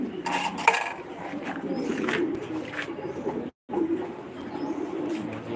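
Pigeons at a farm in Senbag, Noakhali, coo steadily in a low, continuous chorus close by, with faint clinks of metal in the background and a brief dropout near the end.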